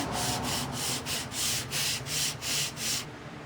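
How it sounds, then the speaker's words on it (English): Sandpaper is rubbed back and forth on the edge of a wooden spacer for a box joint jig, about nine quick, even scratchy strokes, close and fairly quiet, then stopping. "I'm going to take some sandpaper and put it on edge and sand it down"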